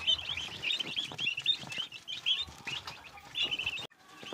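Turkey poults chirp in quick, high repeated peeps, a busy flock calling close by with no talking.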